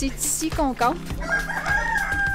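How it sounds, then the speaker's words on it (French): Roosters crow loudly and close by at a campsite in Mexico, surrounded by chickens, with a clear rising-falling cock-a-doodle-doo call near the start and a faint second crow afterward, while someone talks in French over it. "On est entouré de coqs et de poules."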